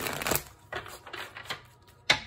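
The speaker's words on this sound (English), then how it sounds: "Two more shuffles" Close, crisp bursts of playing cards being shuffled, several quick riffling rustles spaced irregularly, ending with one sharper snap.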